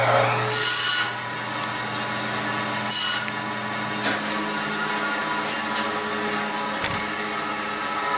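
Sycamore wood binding strips for a guitar fingerboard are cut by hand in a close, rasping sawing sound, with a few sharper strokes and light clicks over a steady background hum, with no voices.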